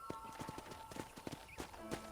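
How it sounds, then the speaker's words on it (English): Horse hooves clip-clop at a steady trot in the Red Dead Redemption ranch country, each strike distinct and close, with a faint tone and a brief soft sound near the end. "let's see if you can still ride a horse"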